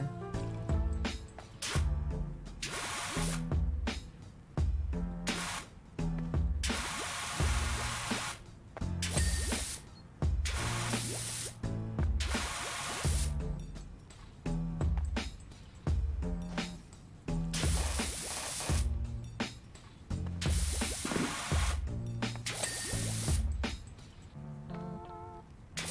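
Metal cleaner sprayed in a video game: repeated loud hissing spray bursts in a rhythmic pattern over about 26 seconds, layered over thumping game sound, with no talk.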